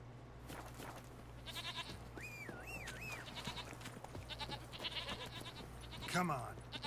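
A goat bleats in The Witcher 3: Hearts of Stone, a short wavering cry in the middle of busy game ambience, with other brief sounds around it.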